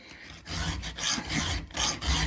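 Rhythmic rasping strokes of a file sharpening chainsaw teeth, four loud back-and-forth passes close up with short pauses between them and no talking.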